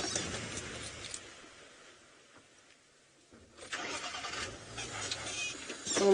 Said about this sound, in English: Oh no, car, don't stop now.